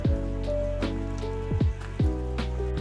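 Rain falls steadily outside on a rainy day near a 20-year-old Silverado pickup, a dense wash of drops with loud overlapping tonal sweeps and thuds running through it.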